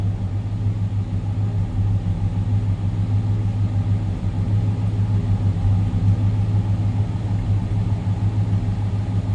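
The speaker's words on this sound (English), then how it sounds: "Little rumble coming out of that V8." A 1968 Oldsmobile Cutlass S convertible's V8 idles with a deep, steady rumble, low and throbbing, continuous with no talking over it.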